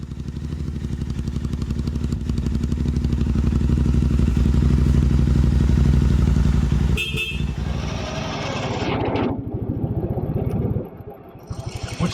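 A classic BSA Victor Special 441 long-stroke single-cylinder motorcycle runs loud and close, swelling as it revs. It then drops to a lower, rougher note as it pulls away.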